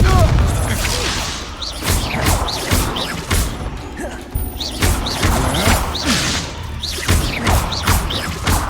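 A Confringo fire spell exploding in Hogwarts Legacy, with loud booming blasts and crashing impacts layered over dense game music and effects, with voices mixed in.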